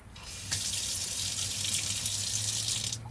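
Water runs steadily from a tap into a small sink in a van, a constant close hiss and splash lasting about three seconds.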